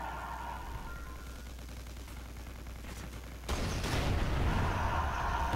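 Explosions and gunfire from a Call of Duty: Ghosts team deathmatch round, a steady rumble of distant fire that jumps to a louder, denser burst of blasts in the second half.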